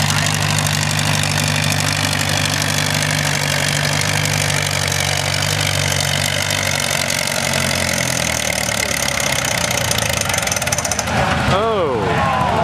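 At a tractor show's pull event, a tractor engine roars loud and steady, holding a deep low drone for several seconds before the pitch shifts and rises near the end, with a voice talking over it.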